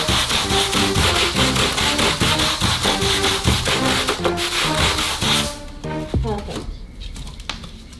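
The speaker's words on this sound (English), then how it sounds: "I've got my sanding block ready and I'm just going to smooth out the area" A sanding block rubs back and forth over filled holes in a bedroom wall, a rapid rhythmic scratching of strokes close up that stops near the end, leaving quieter handling sounds.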